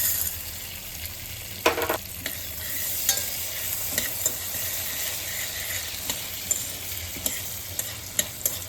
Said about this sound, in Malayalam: നന്നായി ഇളക്കി കൊടുക്കണം.